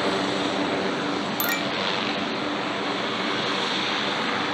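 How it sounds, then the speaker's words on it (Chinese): Aircraft engine running steadily at a small airfield, a loud, constant broadband roar that fills the whole stretch with no pauses, with one brief high clink near the start. "这个飞机好大"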